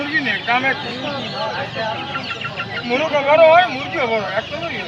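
Several chickens at a market cluck and chatter close by, a busy overlapping stream of short calls rising and falling.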